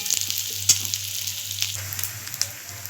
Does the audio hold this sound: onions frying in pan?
yes